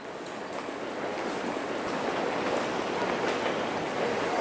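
A train at a Shinjuku Station platform in Tokyo, a steady rumbling wash of wheels and carriages that grows slightly louder, with faint high squeals near the end.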